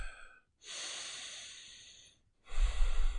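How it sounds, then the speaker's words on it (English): A person takes a deep breath: a long, soft inhale followed after a pause by a heavier, close exhale, alone in a quiet room. "I want you to take a moment and breathe."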